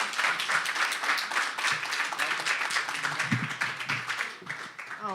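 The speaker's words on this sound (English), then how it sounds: "Let's give him a big round of applause and welcome him up." An audience at a speaker series claps to welcome the next speaker, a steady spread of hand claps that thins toward the end, with a few brief voice sounds mixed in.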